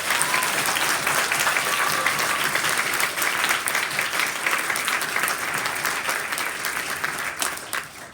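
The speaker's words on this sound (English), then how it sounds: "Let's give them all a huge round of applause." Steady applause from a ceremony audience announcing a kid governor and cabinet, a continuous full wash of many hands clapping for several seconds before it tapers slightly at the close.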